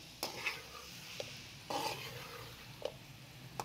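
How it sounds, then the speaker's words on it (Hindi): Mixed vegetables frying in a pan, with a faint low sizzle under occasional sharp clinks and scrapes of a spoon stirring against the pan, no talk. "5 से 7 मिनट इसको भी अच्छी तरह से फ्राई करेंगे।"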